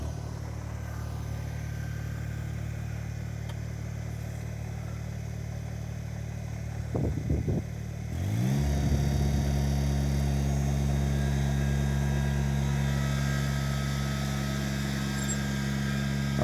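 Kubota BX subcompact tractor engine running while plowing grass, a steady low drone that briefly dips before picking up into a louder, stronger working hum for the rest of the clip.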